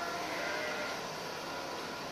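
Sheep crowd into a milking machine, with faint bleating blended into a steady mechanical and barn background noise, continuous and fairly distant.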